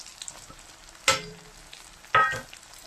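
Food frying in a pan for a duck curry, with two short, sharp bursts of sizzling about a second apart over a quiet background.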